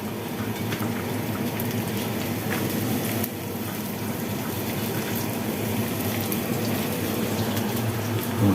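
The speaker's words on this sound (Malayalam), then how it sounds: "ആദ്യം കോളിഫ്ലവർ ഇടുക. കോളിഫ്ലവർ തിളച്ച് വരുന്നേ ഉള്ളൂ." Water boiling hard in a pot after cauliflower goes in, a dense, steady bubbling and rushing that holds close and even throughout.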